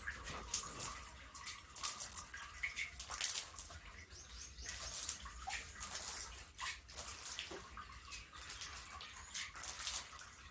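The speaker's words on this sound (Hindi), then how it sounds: "तब तक जो है इधर पानी का छिड़काव कर देते हैं।" Water sprinkled across a floor during house cleaning, a steady run of soft splashes and patters with bird chirps and a dog in the background.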